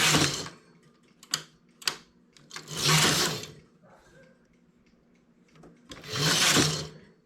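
A knitting machine carriage slides across the needle bed in two long rasping sweeps, with a few sharp clicks between them, close by and with no talk.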